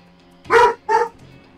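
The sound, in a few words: dog barking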